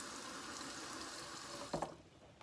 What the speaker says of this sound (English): I am gonna fill this thing up with water